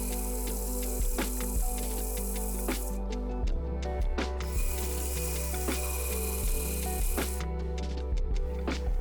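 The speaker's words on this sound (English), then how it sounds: "I grind it like this because it kind of matches the way the handle's gonna be" A forged knife blade is ground on a grinder, a loud continuous whine with scraping contact that cuts off briefly and restarts several times, and sharp clanks in between, close up with no talking.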